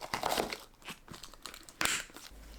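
Plastic sheet being laid and smoothed over kimchi in a container, close crinkling and rustling in short bursts with a louder crackle near the end.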